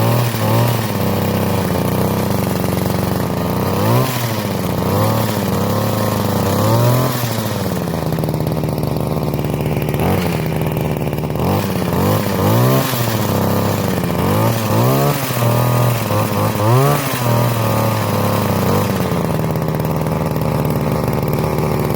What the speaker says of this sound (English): that's that little Sovereign hedge trimmer up and running now